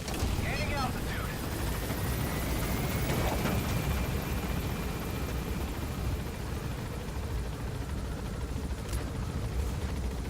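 A helicopter climbing in Metal Gear Solid V drones with a steady, broad rotor and engine roar that holds at an even level throughout.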